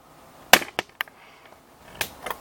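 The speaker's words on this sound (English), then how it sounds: "I'm going to move the camera up a little bit. I apologize for the noise that's about to happen." A few sharp knocks and clicks of handling noise as a camera is moved, scattered over a couple of seconds against a quiet background.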